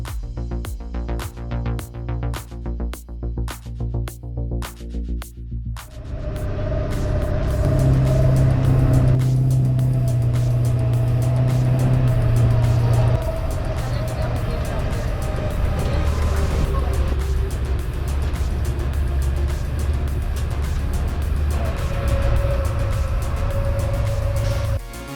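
The Monster Bus Safari Ride bus drives through a Florida state park. It starts with a rapid clattering, then gives way to a loud, steady engine drone with a shifting low hum as the bus rolls on.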